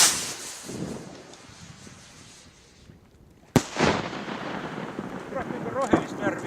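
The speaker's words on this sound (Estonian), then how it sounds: "Mul on ilutulestiku ka" Fireworks set off outdoors at a New Year's celebration, with a sharp loud bang midway followed by crackling bursts and rumble, faint voices in the background.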